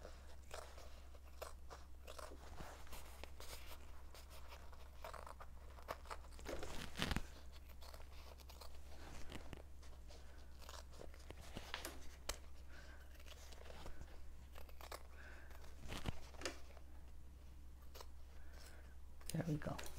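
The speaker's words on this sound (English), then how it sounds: "cut this seam allowance down to about 1/8 of an inch" Sharp scissors snip and crunch through the fabric seam allowance of a slip-on head cover, trimming it close all the way around in a steady run of cuts, over a constant low hum.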